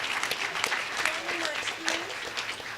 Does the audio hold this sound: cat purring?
no